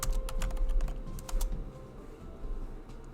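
Web address being typed on a computer keyboard during setup of a NEXTSTEP emulator, a quick run of crisp, close key clicks in irregular bursts with a steady background hum.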